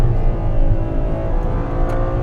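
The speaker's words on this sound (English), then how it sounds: "And the engine just sounds great." A Ferrari 812 Superfast's naturally aspirated V12 holds a loud, steady, close engine note with a rich harmonic drone throughout, with no talking.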